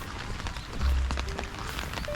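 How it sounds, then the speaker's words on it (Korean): Light rain falls outdoors in Japan, a soft, even patter of scattered drops with faint pattering on surfaces, steady and close. No one talks over it. "비도 솔솔솔 오면서 비가 오는"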